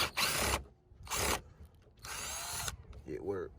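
A power drill fitted with an unfamiliar bit bores into a custom Chevy truck door panel in three loud, close bursts separated by short pauses. A brief whine follows at the end.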